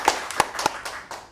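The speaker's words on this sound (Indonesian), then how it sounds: "Tepuk tangan buat kita semua." A handful of separate claps ring out at an Indonesian film-industry community event, sparse and uneven, with several sharp near hits in just over a second.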